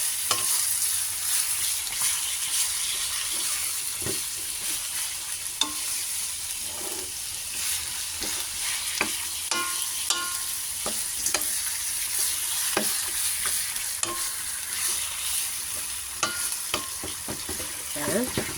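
Chicken adobo with liver sizzles and fries in a pan while a utensil stirs it, with a steady loud sizzle and frequent scraping stir strokes close up throughout.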